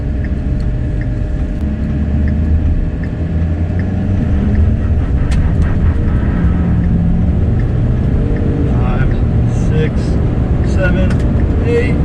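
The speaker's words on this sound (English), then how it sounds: "We're about to do a boosted launch." A stock Ford 6.7L Powerstroke diesel pickup truck makes a boosted launch, its deep engine rumble loud and steady throughout with a rising strain near the end, under someone talking.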